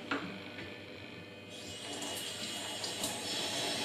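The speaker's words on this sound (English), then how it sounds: "I will put some water here." Water runs from a tap into a cooking pot while Slovak bryndzové halušky is being made, a steady splashing rush that grows fuller and louder partway through, close by and without talk.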